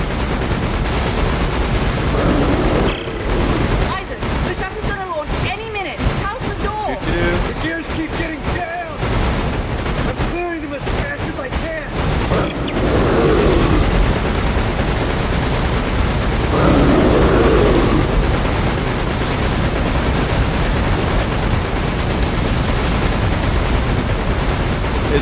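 Mounted gun turret in Dead Space 3 firing in dense, continuous bursts for the first half, with booming impacts and game noise throughout, while several people talk over it.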